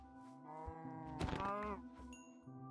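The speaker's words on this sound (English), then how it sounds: "More cows, woo!" Cows mooing in the Minecraft video game, several low drawn-out moos from a herd, one louder call in the middle, alone with no talk.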